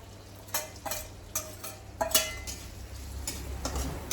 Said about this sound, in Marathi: तर हा जो कूट काढलेला आहे तो मी पहिला टाकणार आहे